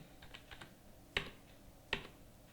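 Keys tapped on a computer keyboard during data entry in Tally Prime, a few soft clicks followed by two sharper, louder keystrokes, quiet and close with no talk.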